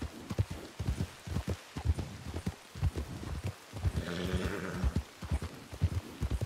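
Horse hooves clip-clopping in the Western video game RedM, a steady close trot of rhythmic thuds with a brief whinny partway through.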